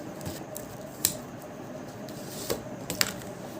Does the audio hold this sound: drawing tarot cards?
yes